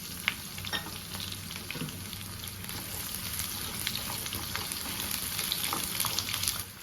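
Chopped onions fry with cinnamon, cloves and cardamom for mushroom biryani, a dense, continuous close sizzle with light crackles and soft stirring movement throughout.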